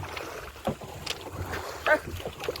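A small wooden boat is rowed with an oar during a fishing outing. Several irregular splashes and knocks of the strokes come up close against soft water and wind noise.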